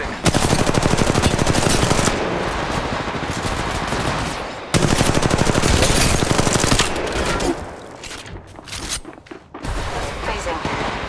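Rapid automatic gunfire bursts from the Apex Legends Mobile game, loud and dense for several seconds, with a brief break and then sparser shots, while a player talks over the action.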